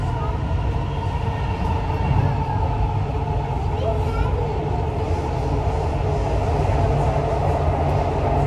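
A Dubai Metro train runs continuously between Center Point and Union stations on the Red Line, producing a loud, steady low rumble and whine heard from inside the carriage with no pauses.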